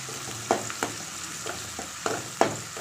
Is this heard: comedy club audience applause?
no